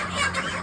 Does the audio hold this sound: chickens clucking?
yes